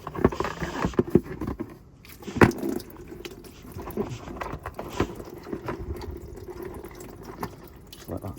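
Old coolant drains from a VW T4 camper engine into a catch container, a steady close trickle and patter with occasional splashy spurts and a few knocks, quiet and continuous.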